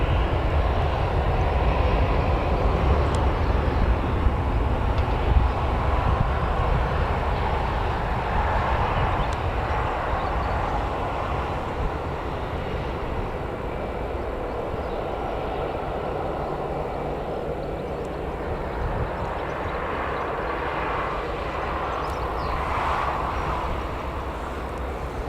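An EasyJet airliner taxis at Newcastle Airport, its engines producing a steady, broad distant jet roar with a low rumble that holds level throughout, heard outdoors without talk.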